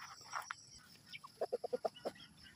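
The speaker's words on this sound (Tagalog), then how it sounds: "Mga manok natin sumasalubong na." Chickens cluck nearby while waiting to be fed, a quick run of six or seven short clucks following a few scattered softer calls, faint against a quiet outdoor background.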